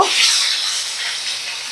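Pomfret fish sizzles loudly in hot oil in a pan on a medium gas flame, a steady close frying hiss as the fish is turned over.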